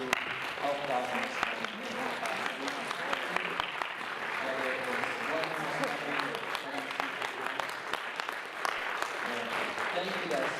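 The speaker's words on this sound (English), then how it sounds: "give another big round of applause for everyone who helped out with this film" A theater audience at a film premiere applauds in a dense, steady burst of clapping, with a voice talking over it.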